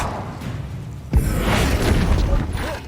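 Spell effects from the Hogwarts Legacy video game, a fiery Incendio and a forceful Depulso, burst in with a sudden booming thump. Rumbling, crackling game noise follows under faint voices.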